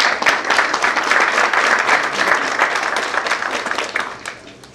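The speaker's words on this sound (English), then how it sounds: "if we could have a round of applause" An audience at a surgical conference applauds a professor, a lively burst of many hands clapping with slightly uneven surges that taper off near the end, nothing spoken over it.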